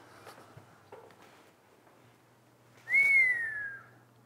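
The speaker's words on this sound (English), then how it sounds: "Once again, the whistle of approval." After a quiet room with faint footsteps and a low hum, a person gives one clear, loud whistle of approval, a sliding tone lasting about a second.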